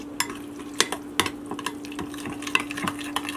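Tartar sauce ingredients, chopped pickled cucumber and lemon juice among them, whisked together in a bowl, with quick uneven clinks and scrapes of the whisk against the bowl under a steady hum.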